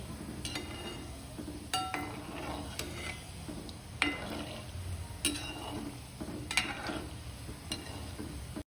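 Kachori frying in hot oil while being stirred slowly, a steady close sizzle and bubbling broken by occasional light ticks and clinks from the stirring utensil.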